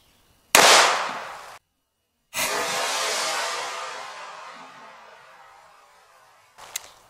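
Two loud double-action shots from a Colt Python .357 Magnum revolver, each a sharp blast with a long ringing tail outdoors, followed by a brief clank at the end.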